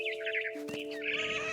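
A bird chirps in the video game What Remains of Edith Finch: bright, fluttering tweets in quick bursts over steady sustained musical tones, with a short pause midway before the chirping resumes.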